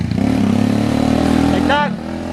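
A vehicle engine runs loud and steady during a driving lesson, holding a constant drone, and a voice cuts in briefly near the end.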